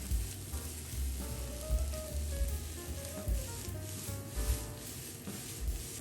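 Chicken fried rice with salt and light soy sauce stir-fried in a pan, a steady close sizzle with scraping and stirring bursts throughout, no voices.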